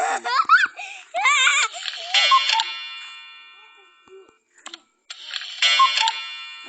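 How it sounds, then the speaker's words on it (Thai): A cuckoo clock plays its warbling bird call several times, with chirpy tones in short bursts, then a pause before another round of chiming notes. "อันนี้เสียงนกนะ"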